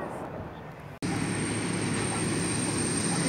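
A low-flying airplane passes overhead, a loud broad roar that jumps up after a brief cut and holds steady, close and dominant.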